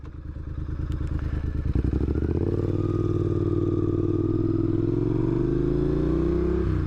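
A Triumph Bonneville motorcycle engine pulls away from a roadside lay-by, loud and close, first idling with a rough clatter, then revving up into a steady rising drone as it accelerates.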